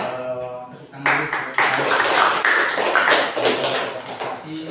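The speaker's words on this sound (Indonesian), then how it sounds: "tepuk tangan dulu." A classroom of students clapping hands together during a group guidance session, starting after a teacher speaks briefly, then a dense, steady patter of many hands at close range for several seconds.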